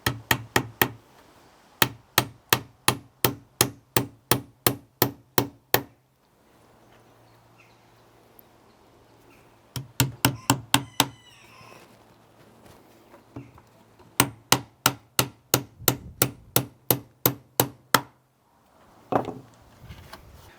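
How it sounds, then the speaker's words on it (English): A hammer drives nails into the end board of a wooden beehive super box, sharp close knocks struck in quick even runs of about a dozen blows, separated by quieter pauses. "Using the same nails, you need to do two into the end board"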